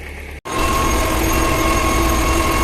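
A YuMZ-6 tractor engine revs hard while ploughing with an old PLN 3-35 plough. After a brief cut it gives a loud, steady, close drone with a whining tone that keeps going to the end.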